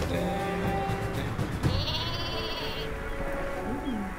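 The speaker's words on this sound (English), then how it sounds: "I'm gonna go for my own super sheep." In the Worms W.M.D video game, a cartoon super sheep bleats in a few wavering calls over a steady bed of game music and sound effects, loud and up front.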